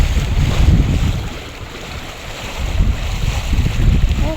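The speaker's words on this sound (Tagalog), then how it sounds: "Maalon po siya." Choppy, murky river current rushing along a windy riverbank, a continuous low rumbling wash with wind buffeting the microphone, swelling and easing in waves, with no talking.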